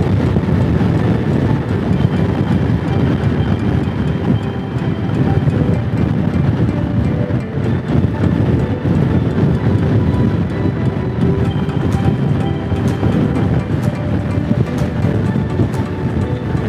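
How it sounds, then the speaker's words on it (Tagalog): Loud, steady wind roar on the microphone with constant rushing noise from riding a Honda X-ADV scooter fast on an elevated skyway, no talking. "malakas ang hangin, mabilis ang mga sasakyan"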